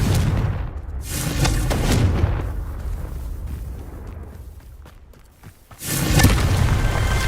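The Confringo explosive spell in the Hogwarts Legacy video game goes off in loud, rumbling booming blasts, a couple in the first two seconds and another at about six seconds, with a quieter rumbling decay between them.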